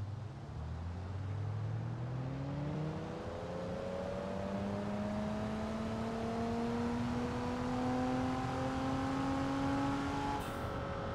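A BMW 3 Series with a V6 engine in the driving game BeamNG Drive revs and accelerates through gears, a steady rising engine drone repeatedly climbing in pitch, moderately quiet with no talking.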